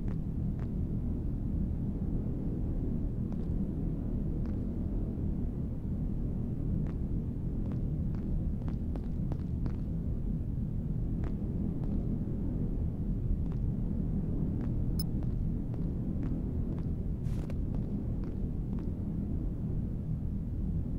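A storm rumbles outside a train on a frozen planet in the game Heat Death: Survival Train, a steady, loud, low roar of wind with faint clicks and creaks scattered through it.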